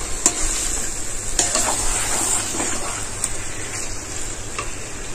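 Chicken pieces stir-fried in spices for a Bengali chicken curry, a steady close sizzle with scraping stirs of the spoon throughout, no talk.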